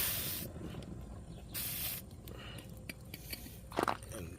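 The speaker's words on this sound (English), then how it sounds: "I'm just going to spray it WD-40" WD-40 sprayed onto the rear brakes of a 2002 Nissan Sentra, two or three brief hissing aerosol bursts close by, followed by faint clicks and rustling.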